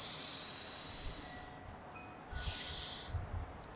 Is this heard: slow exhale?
yes